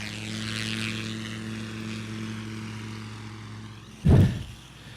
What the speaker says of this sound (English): the Redbird, that Zenith design is a very capable STOL airplane